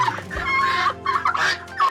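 Turkeys gobble and cluck loudly at close range, a run of rapid, warbling calls repeating in quick bursts with brief gaps, no talking.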